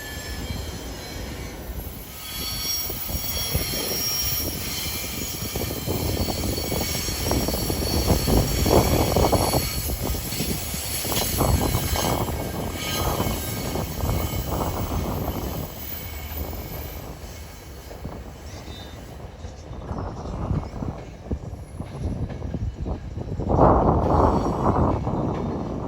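A Silverliner 4 electric commuter train, built in the 1970s, is heard on a Philadelphia line as steady, loud rumbling with wheel and rail noise, clattering bursts and occasional squeals for the whole stretch.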